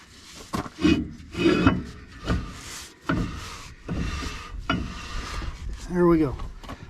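The brake drum on a 1980–1996 Ford F250/F350 truck is turned by hand, with the shoes dragging lightly and giving a series of uneven wooden rubbing and scraping sounds up close.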